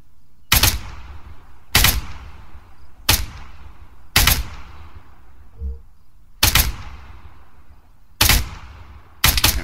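Single gunshots ring out in Arma 3, seven sharp, loud reports spaced one to two seconds apart, each with a short decaying tail, over a quiet background and with no talking.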